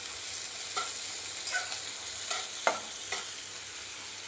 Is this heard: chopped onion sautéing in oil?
yes